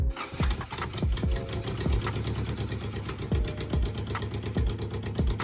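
A rebuilt 2000 Honda Accord engine idles steadily nearby with a rhythmic ticking, knocking patter and a faint high whine.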